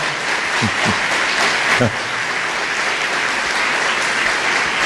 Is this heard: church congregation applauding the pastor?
yes